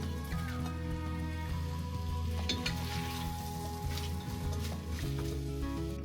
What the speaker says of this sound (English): I've put a little bit more oil in the pan, turned the heat down, and I'm going to put the onions in now.